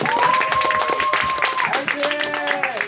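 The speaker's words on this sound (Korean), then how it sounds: "박수!" Audience clapping at a school performance as a student's song called Horizon is introduced, steady applause with cheering voices and a sustained tone running through it, loud and close.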